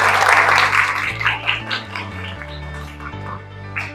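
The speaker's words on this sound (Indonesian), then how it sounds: "Tepuk tangan buat kalian semua." A class of students at a madrasah school in Pekalongan claps during a lesson, a brief burst of applause at the start that quickly fades under steady background music.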